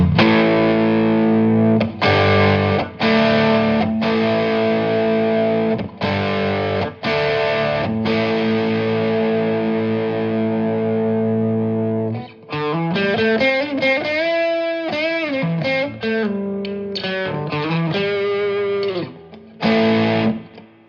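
A heavily distorted electric guitar through a Harley Benton Tube 15 tube amplifier, no pedals, gain at 8, plays chugging chords and then a run of bending lead notes, loud, saturated and close, with brief pauses between phrases.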